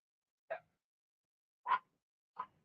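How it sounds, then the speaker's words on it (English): Dogs bark three separate times, short sharp yaps spaced about a second apart against silence, fairly faint and somewhat distant, with no talking. "Know what they're barking at."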